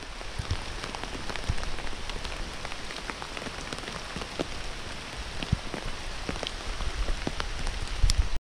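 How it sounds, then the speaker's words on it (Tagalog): Heavy rain pours steadily outdoors, a dense continuous hiss with scattered sharp drop impacts on nearby surfaces, no voices. "lakas na ng ulan"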